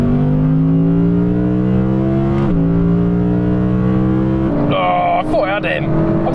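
An Audi RS6 GT pulls hard in third gear from 80 km/h in a drag race, a loud, close engine note climbing steadily through the revs, then a gear change and a voice speaking near the end.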